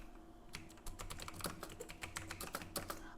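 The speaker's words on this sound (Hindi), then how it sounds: "जैसे हम अब टाइपिंग करेंगे ऐसे" Fast, close typing on a computer keyboard, a dense run of crisp key clicks with no talk over them.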